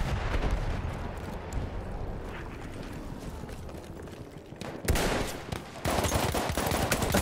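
Dense, continuous gunfire and battle noise in the Battlefield 1 game, with pistol shots cracking amid a rumbling, crowded soundscape and several louder bursts near the end.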